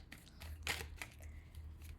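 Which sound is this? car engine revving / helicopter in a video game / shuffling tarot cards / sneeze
shuffling tarot cards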